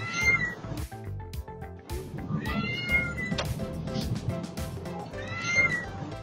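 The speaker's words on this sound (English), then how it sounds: "And of course, the loud meow." A cat meows loudly several times, drawn-out and insistent, with soft background sounds between the calls.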